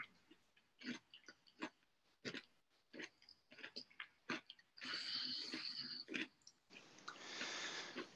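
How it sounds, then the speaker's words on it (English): A person chewing food close to the microphone, with wet, irregular bites and crunches in uneven bursts, followed by a steadier noisy stretch near the end. "Can you hear me chewing?"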